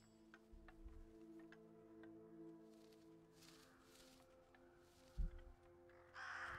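Crows cawing in the snowy video game Roki, scattered harsh caws over a steady low ambient hum with faint ticking, a thump near the end followed by a brief flurry of wingbeats.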